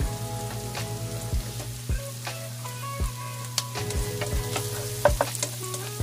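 Ingredients fry to a light brown in a pan, giving a steady close sizzle with irregular sharp clicks and scrapes of stirring, over a faint constant low hum.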